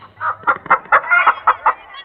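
Country chickens cluck in a quick run of about eight short, evenly spaced calls, close and fairly loud with no talking.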